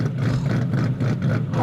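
Deep, steady rumble of a rebuilt Ford Mustang 3V V8 idling nearby, a continuous low drone with slight uneven pulsing and no voices.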